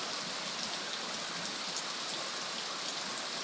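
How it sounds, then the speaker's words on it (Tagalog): Steady rain falls on a vegetable garden planted with pechay and mustard greens, an even, dense hiss with no let-up and no voices. "umulan na naman ngayon"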